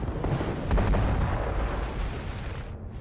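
Weapons fire from battling mechs in the MechWarrior Living Legends game: a dense, booming barrage of heavy cannon and artillery-like blasts rumbling continuously, loud, with no talking.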